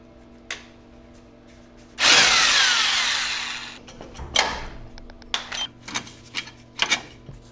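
Power tool spinning a 13/16 socket on a long extension on a RZR 1000 XP clutch, one loud whirring burst of about two seconds followed by a run of short, sharp clicks and bursts.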